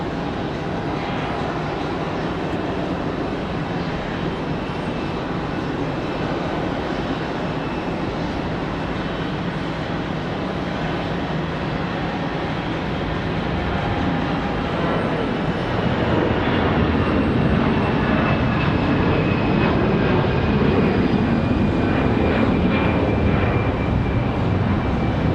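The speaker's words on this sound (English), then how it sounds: "American 2105 touching down from" An American Airlines jet arriving from Miami touches down at Raleigh-Durham International, a steady broad engine roar that grows louder and rougher in the second half as the aircraft passes close.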